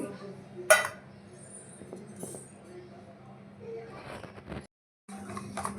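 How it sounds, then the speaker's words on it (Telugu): A spoon works through a thick batter of bread pieces in a bowl, with sporadic metallic clinks and scrapes, one sharp knock early on, and a voice talking quietly alongside. "చిక్కటి పెరిగేసేసుకోవాలి మిశ్రమాన్ని కలుపుకోవాలండి"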